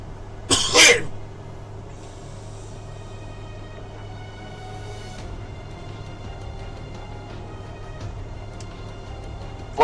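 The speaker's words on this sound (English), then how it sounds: "That was a cough, not sneeze." One sharp cough near the microphone at the start of a video game stream, then a long stretch of quiet background hum.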